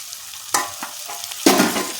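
Tomatoes hit hot oil in a pan of green corn chevdo, giving two sharp bursts of sizzling with stirring scrapes between them, close and loud with no talk.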